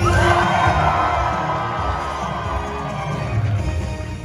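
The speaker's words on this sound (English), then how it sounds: "nice cheering" A crowd cheers, shouts and whoops loudly at a live animal-actor show at Universal Studios Hollywood, greeting Riley the Australian Shepherd, with children's voices mixed in. The sound holds steady and then eases off slightly.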